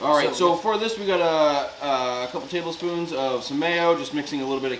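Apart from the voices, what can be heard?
No everyday noises stand out.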